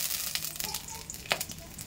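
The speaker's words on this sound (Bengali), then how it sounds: "এবার ফোড়ন দিয়ে দিচ্ছি, 2টো শুকনো লঙ্কা আর 1টা তেজপাতা" Two dry red chillies and a bay leaf crackle in hot mustard oil, a close, busy sizzle with small pops and one sharper crack.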